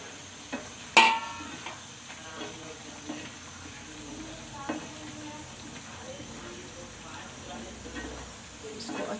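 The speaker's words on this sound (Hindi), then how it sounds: "अब इसमें जो फ्राई किया हुआ चिकन है वो सब डाल देंगे" Fried chicken pieces dropped into a hot pan for chicken bhoona, giving a sharp clatter and sizzle burst, then a steady crackling fry with occasional stirring scrapes throughout.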